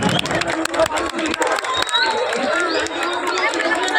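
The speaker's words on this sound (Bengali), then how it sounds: "জোরে একটা হাততালি হোক, জোরে হাততালি হবে" A crowd at a village football prize ceremony bursts into loud, rapid clapping that thins out into cheering and general chatter.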